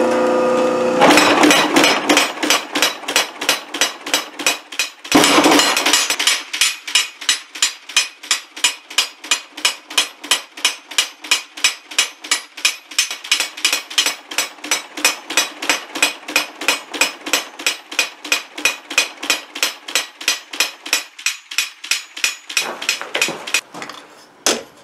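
Hot metal being hammered at a forge, a long run of sharp, evenly spaced ringing blows close by, loud and steady with a brief pause early on.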